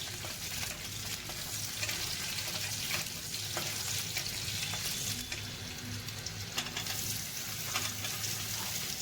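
Bay leaf, a cardamom pod and slit green chilies frying in hot oil for a Bengali egg and potato curry, giving a steady, close sizzle and crackle with occasional sharper pops throughout.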